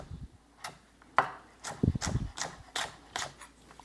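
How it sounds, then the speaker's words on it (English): Knife julienning an onion on a cutting board for pickles: about eight crisp chopping knocks at a loose, uneven pace, fairly close, with quiet room noise between strikes. "julienne the onion."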